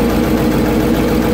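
The V8 engine of a 1956 Buick Special idles steadily at close range while the carburetor is worked by hand, a loud low rumble with no voices.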